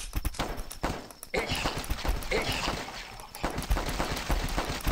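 Rapid gunfire from a Flash shooting video game crackles in dense, repeated bursts, loud and close with little pause throughout.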